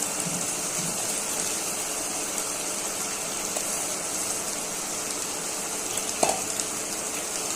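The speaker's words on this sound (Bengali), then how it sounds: "এখন মাছগুলো ছেড়ে দিচ্ছি, বাপানো মাছগুলো।" Rohu fish pieces fry in cooked spice masala with a steady, broad sizzle close by, with occasional soft stirring clinks and one brief sharper knock near the end.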